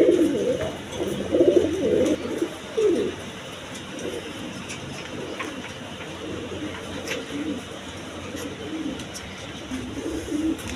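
A pair of Black Bombay pigeons coo in soft, repeated throaty bursts, close by and at moderate volume over a quiet background hiss, with the calls clustered early and then recurring more faintly.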